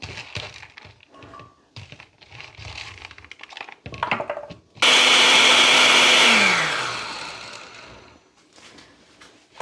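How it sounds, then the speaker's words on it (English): A blender runs loud and steady for a few seconds as it purees coconut for Jamaican gungo peas, its pitch dropping as the motor winds down, after quieter kitchen clatter. "so here I'm gonna finish blend my coconut for my gungo."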